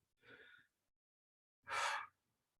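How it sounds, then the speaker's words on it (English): Two deep breaths during a functional fitness workout cool-down, a softer inhale followed by a stronger, breathy exhale, close and clear with silence between them. "Deep breaths in and out."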